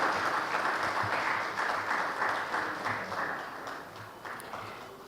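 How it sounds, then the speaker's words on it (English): An audience at an ethical hacking session of an INFOCOM 2024 conference in Kolkata applauds steadily, a dense, continuous clapping that fades slightly toward the end. "can I please request an applause from all of you?"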